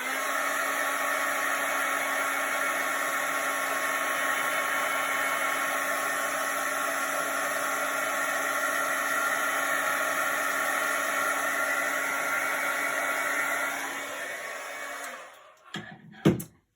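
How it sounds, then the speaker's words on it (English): A hair dryer blows with a steady, loud whooshing hum for about fourteen seconds, then winds down and is switched off, followed by a few handling clicks. "So let me just get the dryer."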